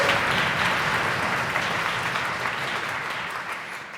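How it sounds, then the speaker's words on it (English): An audience at a Python programming conference claps in a full, sustained round of applause that starts loud and slowly tapers off, with no talking over it. "So give yourself a massive round of applause while I leave the stage."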